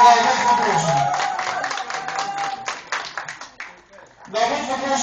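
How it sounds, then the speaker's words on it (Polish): Crowd clapping for both teams before an oldboys football match in Łomża, a scattered patter of claps mixing with someone speaking over a public address, dipping briefly near the end. "Wielkie brawa dla obydwu drużyn."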